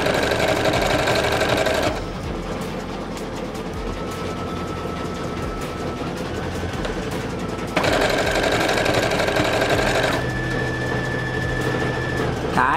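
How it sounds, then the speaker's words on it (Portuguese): An SQ 9100 sewing machine with a J foot sews a straight seam, its motor running in a steady, close whirring hum that surges louder in a couple of stretches, with no voices. "Eu estou costurando com a sapatilha J, que é uma costura reta, normal, né?"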